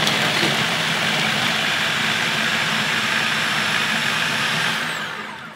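A Philips HR7627 food processor whirs loudly and steadily as it chops shallots, garlic and onions, running alone without pause before winding down at the end.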